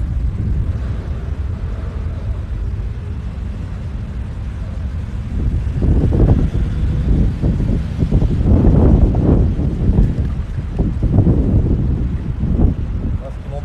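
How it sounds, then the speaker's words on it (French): Wind buffets the microphone outdoors during lure fishing, a steady low rumbling roar that grows rougher and gustier in the second half, with a voice talking intermittently underneath. "Le vent il est quand même gênant quand on pêche"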